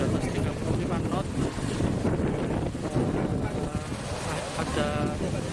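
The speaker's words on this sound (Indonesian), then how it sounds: "Angin kencang, angin di atas 35 knot." Strong wind above 35 knots in extreme weather at sea roars and buffets loudly and continuously, with wind rumble across the microphone and surging water beneath.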